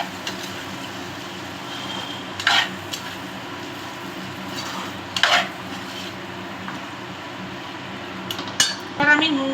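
A spoon scrapes and clinks against a pan while stirring ghugni with potatoes, with a few sharp metallic knocks over a soft background sizzle.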